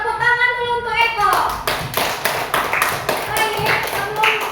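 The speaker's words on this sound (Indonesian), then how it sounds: "Tepuk tangan dulu untuk Eko." A group of young people clap together in a steady, lively burst of applause that fills the room, with a teacher's voice briefly over it.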